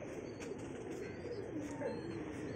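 Pigeons at a rooftop loft in a pigeon competition, with soft cooing murmuring continuously among a steady crowd of birds and background noise.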